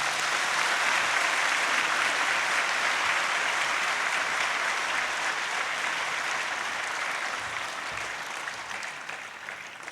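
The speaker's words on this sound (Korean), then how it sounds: "우리 박수로 환영합시다" An audience in a hall claps to welcome a missionary, a dense, loud, sustained round of applause that tapers slightly toward the end with no speech over it.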